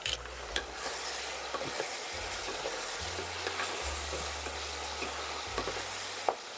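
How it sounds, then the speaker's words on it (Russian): Meat and carrots with dried garlic, dried onion and black pepper fry in a pan for pearl barley porridge, a steady close sizzle with occasional scraping stirs and light clinks. "Теперь все обжариваю еще в течение примерно 5-7 минут, чтобы морковь стала мягче."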